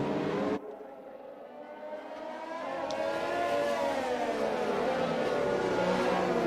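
Racing cars in the video game F1 2020, a sustained whining engine tone that rises and builds in loudness after an abrupt cut, steady harmonic drone with commentary over it.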